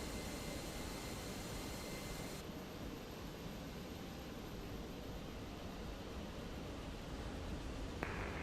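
Steady broadband roar of an airliner's jet engines spooling up for takeoff in Microsoft Flight Simulator 2024, a constant low rumble with hiss that holds level throughout, with no talk.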